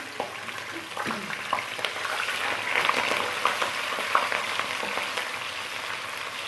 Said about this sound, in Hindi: अब मैं इसमें एक अदद प्याज डालती हूँ।